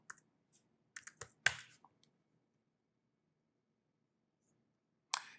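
A few quick keystrokes on a computer keyboard tap out a short search word, then a pause and a final click burst, crisp and close in a quiet room.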